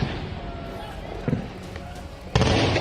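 Sharp bursts near an army base in Hoshiarpur, Punjab, a couple of loud cracks and thuds cutting through continuous broadband rumble, with a stronger sustained blast toward the end.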